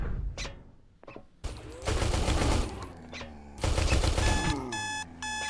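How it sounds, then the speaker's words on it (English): Bursts of C20 automatic gunfire aimed at zombies in the Space Station 14 video game, with rapid rattling volleys between short gaps and electronic beeps and alarm-like tones layered over the shooting. "Zombie taking many C20 shots, not quite dead though."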